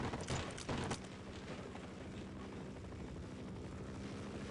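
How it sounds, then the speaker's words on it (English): An Apache helicopter in Half-Life drones with a steady broadband rotor and engine roar, a few sharp bursts early on, then a constant loud hum. "another Apache helicopter to deal with"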